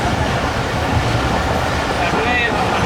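Pak Business Express passenger train rolls through the abandoned Malir Colony station in Pakistan, a loud continuous roar of wheels and carriage rumble heard from on board, with faint rhythmic clatter throughout.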